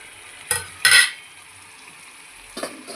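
Green chillies fry in oil for a prawn curry: a quiet steady sizzle is broken by a few sharp bursts of stirring or utensil clatter against the pan, with no talking.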